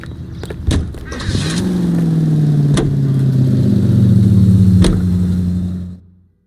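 A car engine in the video game L.A. Noire starts up with a few clicks, then settles into a steady, loud mid-pitched drive that holds evenly for several seconds before cutting off abruptly, with faint sharp ticks along the way.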